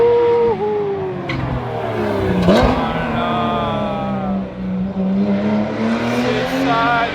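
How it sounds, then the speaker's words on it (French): A Porsche GT3 race car roars past on the track at the Youngtimers Festival at UTAC Montlhéry, its engine note rising and falling loudly as it passes, with faint crowd voices around. "C'est la GT3 qui fait du bruit de ouf."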